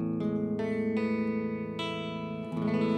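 A difficult stretched guitar chord in standard tuning rings out, strummed or re-struck several times with sustained, layered notes, close and clear with no talk.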